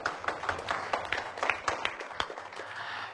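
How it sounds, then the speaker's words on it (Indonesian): Crowd applause for a shadow-puppet (dalang) performance, with dense, uneven clapping that holds steady for a few seconds, moderately loud and close. "Tepuk tangan untuk dalang"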